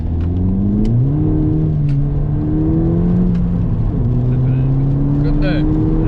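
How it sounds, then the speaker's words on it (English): Remapped car accelerating hard in second gear, engine note rising steadily through the revs, loud and close, with a brief dip as the pitch resets before climbing again. "Give it a second gear blast then"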